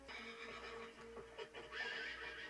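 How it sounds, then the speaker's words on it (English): A horse whinnies in the 1987 film Near Dark, a drawn-out shaky neigh rising and falling, heard at a moderate distance over faint background noise. "the sound of the horse gave it away"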